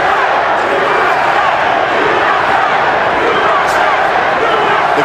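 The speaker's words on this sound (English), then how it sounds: "you hear a chanting of USA as American fans here take up the chant to support Mayweather" A big boxing arena crowd at a Mayweather vs. Castillo fight roars steadily in a dense, loud wash of voices, with American fans chanting "USA" somewhere within the continuous noise.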